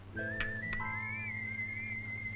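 A person whistles a sustained, wavering tune in a Tamil film scene, fairly quiet over a low steady hum, with a couple of brief clicks near the start.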